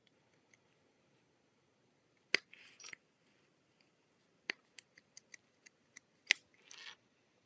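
Scissors snip a worn zipper in a scattered series of sharp, faint clicks with brief rustling between cuts, close by in an otherwise quiet room.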